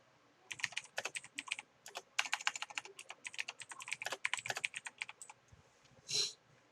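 Quick bursts of typing on a computer keyboard, clicking keys in uneven runs and short pauses, close and clear with no voices, ending on one heavier keystroke.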